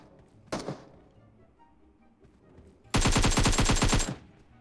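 Gunfire in the mobile shooter PUBG Mobile: a single sharp shot, a quiet pause with faint background, then a close, loud rapid burst of about a dozen evenly spaced rounds lasting just over a second.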